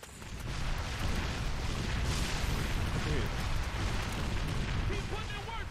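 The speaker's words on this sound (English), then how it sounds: "He's throwing mortars, I didn't even hit him." Mortar explosions in the video game 50 Cent: Blood on the Sand, a dense, continuous roar of blasts and booms with rumbling low end, loud and close, with a voice talking underneath.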